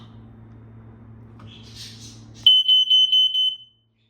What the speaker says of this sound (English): Now we're gonna do the actual test on the alarm.